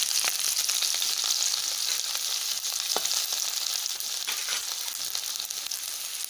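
Chopped green chili, ginger and garlic fry in hot oil, a steady close sizzle with light crackles and occasional stirring scrapes running throughout.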